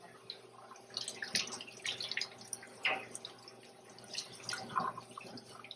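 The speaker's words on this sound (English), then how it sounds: "So now I'm going to rinse that out." Water from a sink tap runs and drips faintly while a tie-dyed fabric mask is rinsed, with soft irregular splashes and trickles close by in a quiet room.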